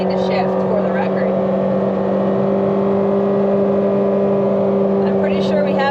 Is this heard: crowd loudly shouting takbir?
no